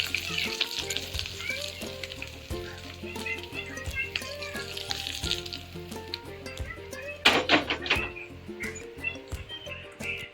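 Tempering of curry leaves and coriander sizzles and crackles hard in a hot pan for Telugu-style cucumber chutney (dosakaya pachadi), a steady close frying hiss with popping bursts and a louder spattering flare near the end, no talk.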